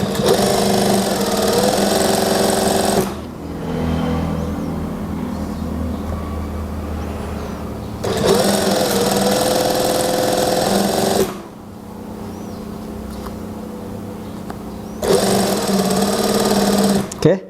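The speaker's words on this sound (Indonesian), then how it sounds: "Kita jahit dulu sampai ujung" A sewing machine stitches a trouser waistband in three loud, close bursts of steady whirring. Quieter gaps with a voice talking separate the runs.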